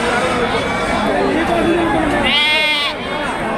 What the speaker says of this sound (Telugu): చుక్కల పొట్టేల పిల్లలు అంటారు